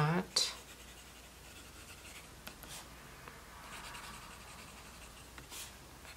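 A medium-nib fountain pen with green ink scratches softly across Cosmo Air Light notebook paper in faint, close strokes, with a louder handling knock at the start.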